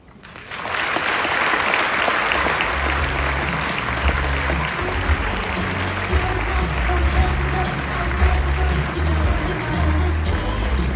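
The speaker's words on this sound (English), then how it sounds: "Give him another big round of applause." A large audience at a medical education talk bursts into loud, sustained applause that swells quickly and keeps going, with some cheering mixed in.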